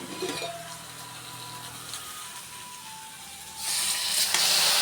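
Onion paste with ginger and garlic paste sizzles in hot oil in a pan, a steady soft hiss that swells into a louder, brighter frying crackle toward the end, with no talking.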